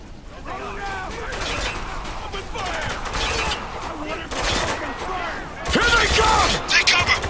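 Gunfire in the war shooter Spec Ops: The Line, bursts and volleys of shots running through the clip and growing louder near the end, with voices talking and shouting underneath.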